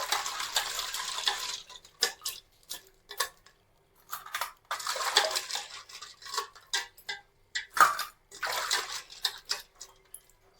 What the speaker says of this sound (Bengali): এবার আমি জল থেকে তুলে নেব, একদম জলটা ঝরিয়ে উঠিয়ে নিচ্ছি।